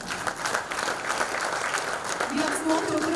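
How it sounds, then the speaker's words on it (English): Sustained audience applause for the women on stage at a supply chain and logistics women's event, dense steady clapping throughout with a voice speaking over it near the end. "And gentlemen, you can keep the claps flowing."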